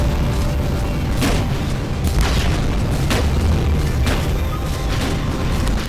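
Shotgun with explosive rounds in a first-person shooter, firing a steady series of booming blasts about once per second over a dense, loud background of game noise.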